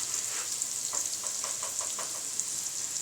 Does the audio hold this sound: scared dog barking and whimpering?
no